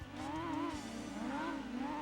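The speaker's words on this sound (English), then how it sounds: "Oh, yeah, you can hear that engine now." A small Fiat Cinquecento's engine revs steadily in Gran Turismo 2 on the PS1, a loud, continuous buzzing drone with gently rising and falling pitch.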